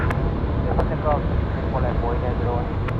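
Airliner taking off from runway 34 left at Sydney Airport, a steady broad engine roar held throughout while someone talks over it.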